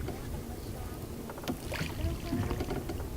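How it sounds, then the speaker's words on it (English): Tourist boat on a Cambodian river rowed with oars near dolphins, engine cut: soft, close paddle splashes and water dripping over wind and a low background rumble. "The engine is cut and oars are used when the boats are near the dolphins"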